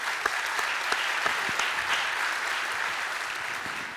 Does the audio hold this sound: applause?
yes